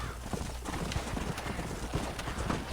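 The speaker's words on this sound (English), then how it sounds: "Oh, otro caballo. Y este caballo." Horse hooves clip-clop in Red Dead Redemption, a fast run of soft hoofbeats buried in a loud, noisy wash of in-game ambience.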